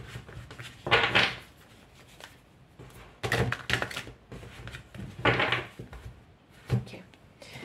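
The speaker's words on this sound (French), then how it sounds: "Je vais tirer les cartes de tarot." Tarot cards being drawn and handled: soft papery slides, shuffles and taps come in several short bursts separated by quiet gaps, close and gentle.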